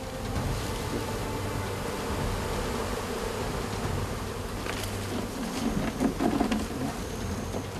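A dense, steady drone of many honeybees swarms around a wild honeycomb high in a tree in Indonesia, a continuous close buzzing that swells slightly near the end.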